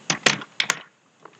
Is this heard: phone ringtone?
no